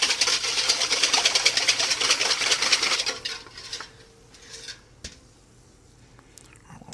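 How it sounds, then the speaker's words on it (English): A wire whisk beats rapidly against a bowl, stirring salt into a hot sauce mixture until it dissolves; a dense, brisk clatter runs steadily for about three seconds, then fades to a few light clinks and taps. "We need to mix it in until it's all dissolved."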